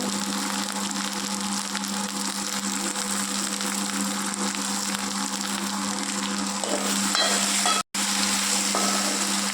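Okra sautéing in a pan, a loud, even, unbroken sizzle with a steady hum beneath and a brief cut-out near the end.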